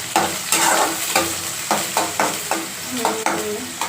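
Onion and green chili sauté in oil with a bright sizzle, punctuated by regular stirring strokes about twice a second, each stroke briefly louder, up close.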